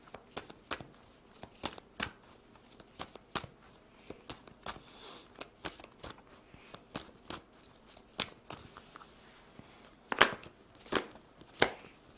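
Tarot cards are shuffled and handled in quick bursts of crisp clicks and taps, close and fairly quiet, with no talking.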